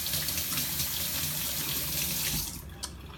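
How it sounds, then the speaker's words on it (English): Water pours steadily into a jar for making tepache, a loud, close, continuous rushing gush that cuts off near the end, leaving faint handling clinks. "we're just gonna add the water."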